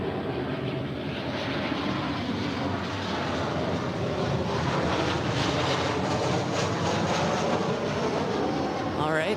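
A Southwest Airlines Boeing 737-800 arriving at LAX from New Orleans makes a continuous engine roar, fairly close and even in level, with faint voices in the background.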